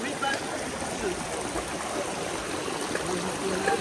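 The River Ely at Anse La Raye, St. Lucia, near Bodnav Waterfall, flows with a steady, close rushing wash that never lets up, and voices may be faintly mixed in.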